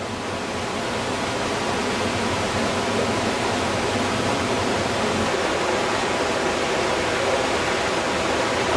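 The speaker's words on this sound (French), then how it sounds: "Il faut parler un peu fort pour couvrir le bruit du torrent" A mountain torrent rushes through the narrow Gorges de La Fou at Arles-sur-Tech, a loud, constant broadband roar of water that stays even from start to finish, with no voices.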